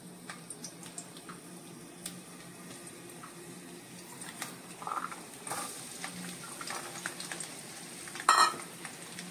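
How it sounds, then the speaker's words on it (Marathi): Garlic frying in hot oil for a plain garlic tempering, a faint, steady low sizzle with scattered small crackles and pops, one sharper spatter burst near the end, no voices. "मी आता लसूण घालते. तापतंय ते, तापू दे जरा."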